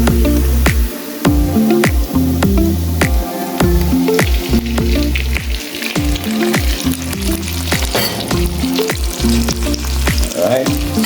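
Ackee frying in hot seasoned oil in a pan, with a loud continuous sizzle and repeated sharp stirring and scraping strokes in a steady rhythm, close up and free of talk.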